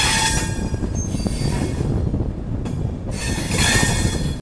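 A long-distance Kolkata to Kashmir train rolls along loudly, wheels grinding and squealing against the rails amid a continuous rattling rumble, with bursts of bright screeching near the start and end.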